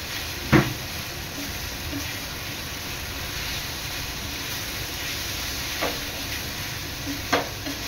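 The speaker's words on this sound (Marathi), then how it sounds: "हळद, मसाले आहेत ना, चांगले कांद्यात शिजून घ्यायचे आहेत।" Onions with turmeric and spice masala cooking in a pan for crab bhurji, giving a steady low sizzle throughout, with a few sharp stirring clinks near the start and again late.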